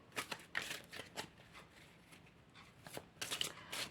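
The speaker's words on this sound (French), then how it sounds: "on va battre déjà les cartes" Tarot cards are shuffled close by in quick, soft riffling bursts separated by brief pauses, faint and papery, with no talking.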